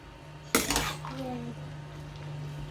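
Vegetables are mixed in a metal cooking pot, opening with one sharp clang of a utensil against the pot, followed by faint scraping under a steady low hum.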